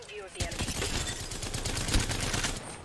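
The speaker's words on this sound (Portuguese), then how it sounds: "já tô tomando tiro" Rapid automatic gunfire bursts in Apex Legends solo play start abruptly and keep going as dense, continuous volleys, loud and close, with some voice activity underneath.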